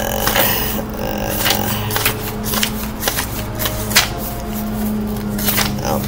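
A deck of oracle cards is shuffled by hand, with repeated close riffles and soft scraping swishes in an uneven rhythm.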